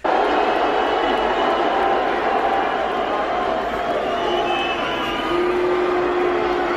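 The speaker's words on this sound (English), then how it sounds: "all those people are booing" A large crowd roars continuously in a dense, sustained wash of voices, loud and close, with jeering tones rising over the din.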